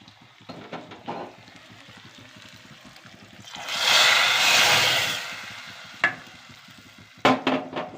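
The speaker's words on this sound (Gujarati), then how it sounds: "સરસ મજાનો વઘાર થઈ ગયો છે કઢીનો" Hot oil tempering for methi kadhi with cloves, bay leaf, chillies and curry leaves swells into a loud sizzling hiss for a couple of seconds, framed by quieter stirring and clinks of a utensil against the pot.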